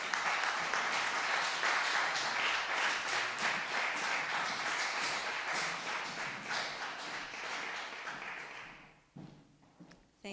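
An audience at the International Peace Festival 2023 awards ceremony claps in steady, dense applause that fills the room, then thins and fades out near the end.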